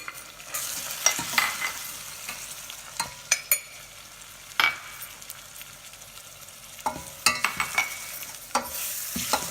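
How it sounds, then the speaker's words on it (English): Seasoning is stirred into a pot of lentil soup over a steady sizzling bed, with repeated scraping strokes that come in bursts, loud and close. There is no speech. "I'm going to give it a good stir"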